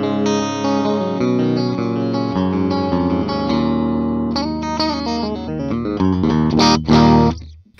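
A 2024 Gibson SG Modern Supreme electric guitar, middle position with both pickups split, plays a sequence of clean, bright chords and notes with a slightly compressed tone, ending in a few louder strums.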